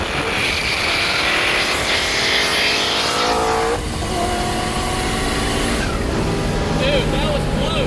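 A race car making over 1,000 hp roars past under a loud, busy crowd hubbub, its engine note rising and then falling away partway through.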